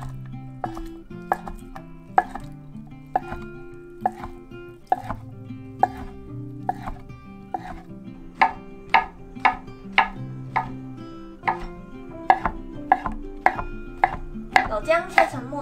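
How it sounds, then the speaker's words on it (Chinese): A knife dices mock chicken and fresh shiitake mushrooms on a cutting board in a steady run of crisp, close chops over soft background music. "素鸡跟鲜香菇切成小丁状。"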